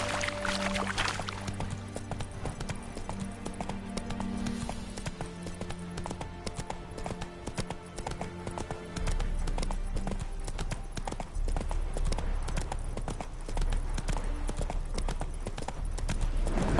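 Horse hooves in The Witcher 3, a steady clip-clop of a trotting horse running throughout at moderate level, with a low rumbling ambience underneath.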